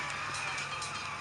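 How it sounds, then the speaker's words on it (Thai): A Lamborghini Asterion LPI 910-4 engine in the racing video game Real Racing 3 drones steadily, fairly faint, with hints of tires squealing over the roar. "เออเสียงเครื่องยนต์ดีเซลของมัน"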